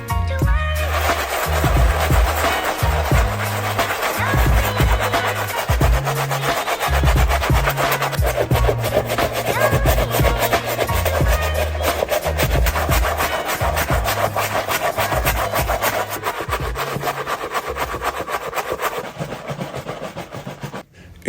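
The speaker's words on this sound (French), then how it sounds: "ça permet de nettoyer la chaussure en profondeur et de la désinfecter dans tous les recoins" A brush rapidly scrubbing a Nike Air Force 1 sneaker makes a long run of quick, rhythmic rubbing strokes up close, with a steady musical bass pattern beneath.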